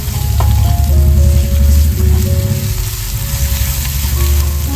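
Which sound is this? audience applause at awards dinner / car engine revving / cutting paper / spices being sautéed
spices being sautéed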